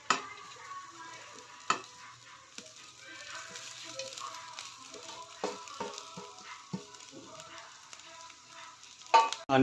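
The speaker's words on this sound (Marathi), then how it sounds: "शिजवलेला भात टाकून घेऊ" Cooked rice stirred in a pan with fried onion and crushed peanut powder, a soft continuous sizzle with spatula scrapes and taps against the pan, fairly quiet and close.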